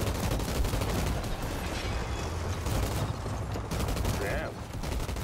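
Dense, loud gunfire from a weapon in the game Outriders rattles continuously in close, rapid bursts, with heavy low rumble beneath and no pauses.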